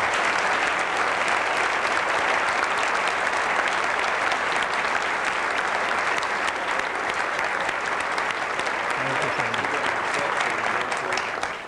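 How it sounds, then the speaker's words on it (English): A forum audience at a 1999 business event applauds its guests in a long, loud, continuous wash of clapping that holds evenly throughout and tails off only at the very end. "give a round of appreciation and applause to our guests here tonight"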